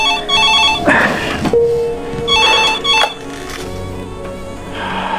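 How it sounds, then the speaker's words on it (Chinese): A telephone rings in a film scene, repeating its bright electronic bell several times in loud, regular bursts with a low tone between rings and no talking. "他给年迈的父亲打去了电话"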